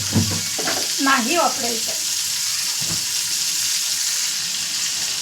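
Butter and oil heat in a pan for a small batch of chicken liver masala, giving a steady close hiss under a woman's brief speech at the start.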